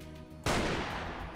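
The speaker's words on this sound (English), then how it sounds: "I'm gonna try out the sniper rifle on some zombies" A sniper rifle shot fired at zombies in the survival video game Nomad: one loud, sharp blast that trails off into a long decaying rumble, coming after a quiet stretch of low in-game background sound.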